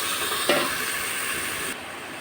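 Spice paste with a splash of water frying in a pan for a papaya and tilapia curry, a steady close sizzle with a single brief stir early on, then the hiss softens slightly.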